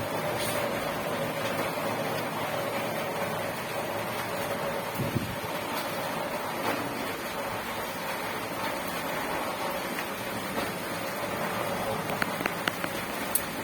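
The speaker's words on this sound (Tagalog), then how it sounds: "Medyo lumalakas yung ulan." Steady, dense rain noise fills the whole stretch, a constant wash with a few faint knocks and ticks near the end.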